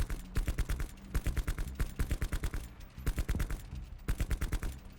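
Bursts of automatic gunfire from a held trigger in Call of Duty, rapid rhythmic shots in repeated short strings with brief pauses between, close and crisp.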